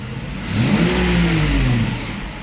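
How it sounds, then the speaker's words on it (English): A Mercedes S600 engine with a faulty throttle (egas) module runs with its air pump on. It revs up in a smooth, near rising-and-falling swell over a steady hum, with no talking. "We have air pump on right now."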